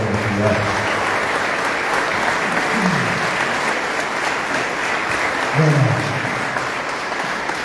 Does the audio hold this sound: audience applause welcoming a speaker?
yes